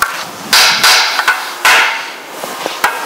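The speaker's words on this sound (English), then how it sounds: "You can take a brass or a copper hammer, and you should be able to tap the case down lightly" A brass or copper hammer taps a VW Beetle 40 horsepower engine case down, giving four or five loud, ringing metallic knocks at uneven intervals, each decaying briefly, with no talking.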